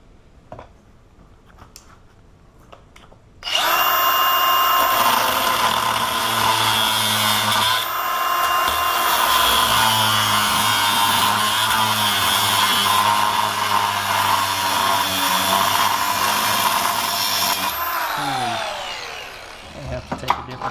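An angle grinder cuts into an ABUS 83/80 padlock. After a quiet start it bursts into a loud, sustained, high-pitched grinding whine for about fifteen seconds, then winds down with a few clanks.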